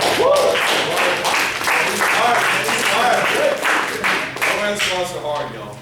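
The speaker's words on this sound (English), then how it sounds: "Let's give them a round of applause." An audience claps for a volunteer at a fitness conference presentation on corrective exercise and overhead squats. The applause is loud, dense and sustained over several seconds, with voices mixed in.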